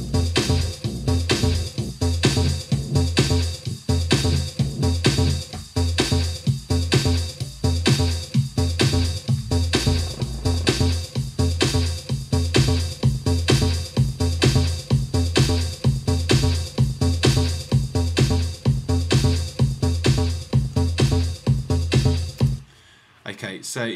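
Kick drum samples loop from an Ableton Live drum rack in a steady, punchy pattern of repeated thumps that runs loud for over twenty seconds before cutting off.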